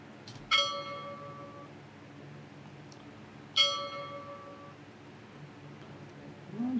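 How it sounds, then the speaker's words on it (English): A bell sound effect is used for a YouTube bell button animation. Two clear, bright dings sound about three seconds apart, each with a shimmering ringing tail that fades into quiet. "I just need to give the bell sound"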